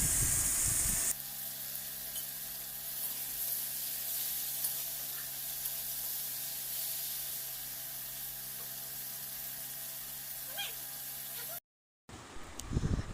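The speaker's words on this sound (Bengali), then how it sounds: "টমেটো কুচিটা দিয়ে একটু নেড়ে নিয়ে একটু লবণ দিয়ে দেবো" Chopped tomato with a pinch of salt fries in a pan, producing a soft, steady sizzle close by with faint stirring, broken by a brief drop to silence near the end.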